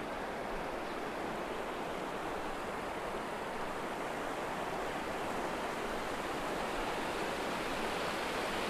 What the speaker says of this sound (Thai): โอ้โหอย่างกับน้ำตกจริงๆดูเสียงสิ